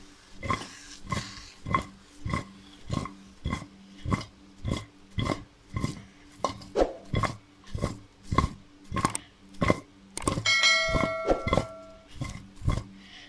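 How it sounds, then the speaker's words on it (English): Boiled manioc root with salt being tossed in a pot, a steady run of about twenty rhythmic thumps and rattles, close and moderately loud, ending in a brighter metallic clatter. "I'm going to toss this like this"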